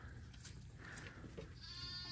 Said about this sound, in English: quite a few more goats out here.